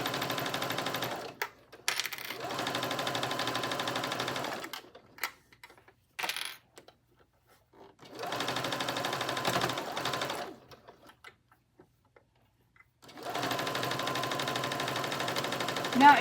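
A sewing machine stitches the side seam of an oversized T-shirt being turned into a cropped jacket, running in three steady whirring bursts separated by quiet pauses, with a few short clicks and taps between runs.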